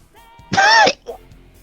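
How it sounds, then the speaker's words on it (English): A single short, rough cough bursts out close by, followed by a small trailing noise and quiet. "I just coughed by accident there"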